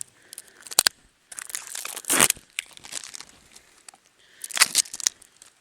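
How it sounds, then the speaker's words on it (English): Duct tape from a value pack rips off the roll in loud crinkly bursts, then crackles and tears again as it is wrapped tightly around a rag-bag crossbow target, with short quiet gaps between pulls. "you go right back to your good old duct tape"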